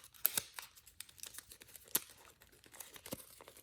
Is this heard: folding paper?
yes